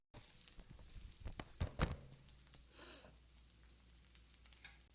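Onions cooking in a hot pan with the heat just turned off, a faint soft sizzle with scattered crackles and pops, plus a brief louder hiss near the middle.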